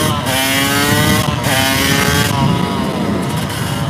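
Yamaha YZ250 two-stroke supermoto motorcycle ridden on a cold day with tall first gearing, a loud close engine buzzing and revving up through rising pitches, with short shifts between pulls and wind noise, no talking.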